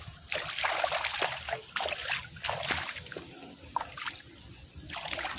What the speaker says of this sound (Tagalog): Maghuhugas muna ako kamay